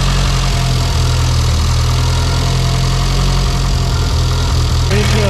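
A fully built Mitsubishi Evo 8 engine runs at a loud, steady, rumbling idle right after its first start-up, close to the microphone, with a slight change near the end.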